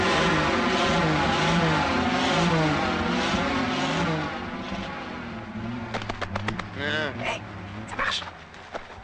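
A freshly repaired engine starts and runs with a throbbing, revving drone, then settles lower as excited voices call out over it.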